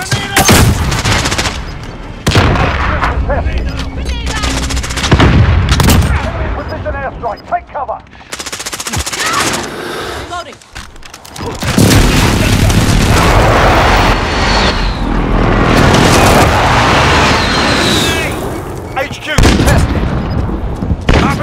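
Heavy automatic gunfire and booming explosions fill a Call of Duty: Modern Warfare battle. Loud sustained bursts stop for short pauses and then resume, with shouted voices mixed into the din.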